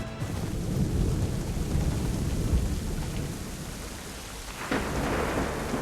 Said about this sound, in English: I'd say it's high time we find some cover from this storm